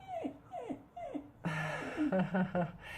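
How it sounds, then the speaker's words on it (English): A dog whimpers close by in three short, falling whines, then lets out a longer run of higher, pitched yips and whimpering that builds toward the end. "And my dog agrees with you."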